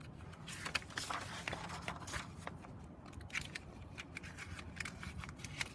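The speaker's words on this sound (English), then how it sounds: "I can bring that to my cutting mat and cut it." Scissors snip through sheets of orange and blue paper in quick, irregular cuts, close and fairly quiet against a hushed room.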